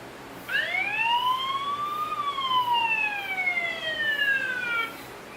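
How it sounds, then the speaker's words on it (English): A loud electronic siren from an outdoor wireless PTZ security camera wails alone, a single rising then slowly falling tone sweep, close and clear. "It also have a siren that sounds like this."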